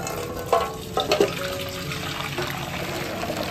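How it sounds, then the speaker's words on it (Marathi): Water pours and splashes in short bursts as it is drained from part-cooked rice, with wet sloshing and a few sharp clinks, steady hiss of liquid running throughout. "आता ह्याचं पूर्ण पाणी आपण काढून घेतोय"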